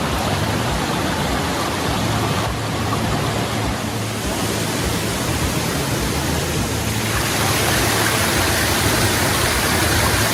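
Mallyan Spout waterfall pouring steadily, a dense broadband rush of falling water heard close and loud, with no voices over it.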